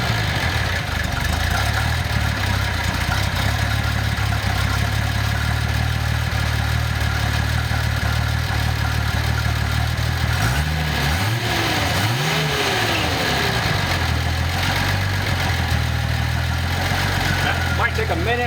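A 1988–1989 Nissan 300ZX Z31 turbo engine cranks and catches, then settles into a steady idle with a brief rev swell midway, loud and close throughout, with a voice speaking over it.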